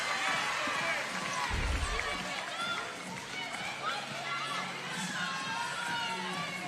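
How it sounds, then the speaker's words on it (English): Crowd noise rises at a WNBL women's basketball game between Townsville Fire and Southside Flyers, with cheering and shouting in the arena, sneaker squeaks and a ball bounce, under an announcer's continuous commentary. "Townsville crowd getting behind their team."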